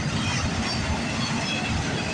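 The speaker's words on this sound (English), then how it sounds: "Union Pacific. Symbol on this train is CP137." A Union Pacific-led freight train, symbol CP137, rolls past close by in Milton, Ontario, a dense, steady roar of wheels and cars with no pause.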